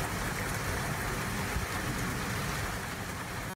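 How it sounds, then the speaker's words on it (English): Heavy rain pours down during a storm near 114th and Mingo in Bixby, a dense, steady broadband hiss of water that stays constant throughout with no voices. "This is a look at the heavy rain that came down a little more than an hour ago near 114th and Mingo in Bixby."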